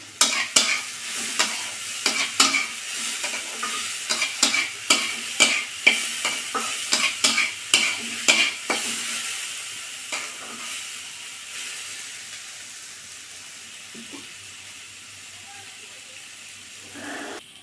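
Slit green chillies fried in a pan, heard as repeated rhythmic spatula strikes and scrapes over a hissing sizzle, the stirring fading after about nine seconds into a softer steady fry.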